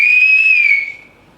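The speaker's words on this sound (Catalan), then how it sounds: "Totes el varen xiular." A sustained, piercing whistle at people in a stage play, held steady for most of a second and then sliding down and fading out, loud and alone with no voices.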